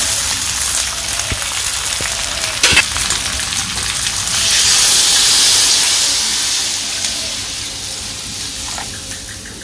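Water is poured into a pan of braised meat curry, setting off a loud hissing sizzle and bubbling steam that swells midway and then settles into a steady frying crackle close by, with a few clinks of utensils.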